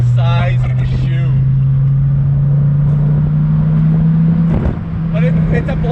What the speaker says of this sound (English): And that V10, you're never gonna get bored of it, never.